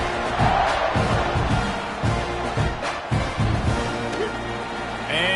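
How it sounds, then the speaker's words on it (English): Stadium crowd noise from the NCAA 25 college football video game, a steady roaring murmur of fans with rhythmic chanting swells, loud and continuous under a commentator's voice. "this crowd is buzzing after that last score."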